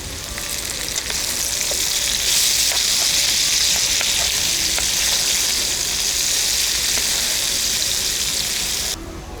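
Potatoes with mushrooms fry in a pan on the road, giving a loud, steady sizzle throughout, with faint clicks from occasional stirring.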